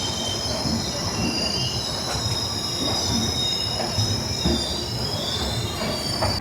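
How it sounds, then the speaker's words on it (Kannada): The Panchaganga Superfast Express pulls into KSR Bengaluru station, with loud, sustained high-pitched wheel squeal over a rumbling rail clatter that goes on without a break. "ಫೈನಲಿ ನಮ್ಮ ಪಂಚಗಂಗಾ ಎಕ್ಸ್ಪ್ರೆಸ್ ಬಂದಿದೆ ಈಗ KSR ಬೆಂಗಳೂರಿಗೆ"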